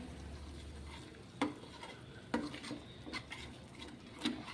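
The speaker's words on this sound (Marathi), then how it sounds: "मसाले यामध्ये टाकून झाल्यानंतर काय करायचं आहे व्यवस्थित आपल्याला हे सगळं मिश्रण हलवून घ्यायचं आहे" A spoon stirs a paneer masala spice mixture in oil in a pan for a Gudi Padwa veg thali. Light scraping taps land at a few spaced moments over a soft low sizzle, close by, and no one speaks.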